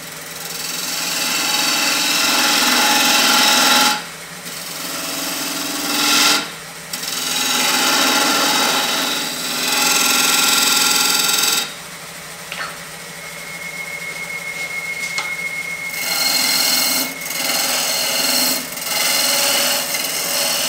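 Wood spins on a lathe under a spindle gouge, cutting in bursts of scraping, rasping noise several seconds long, separated by brief pauses.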